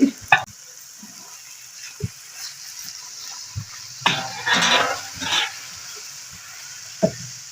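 Boiled chicken is stirred into sizzling vegetables in a pan for spaghetti, with intermittent scrapes and clatters of the utensil over a soft, steady frying hiss.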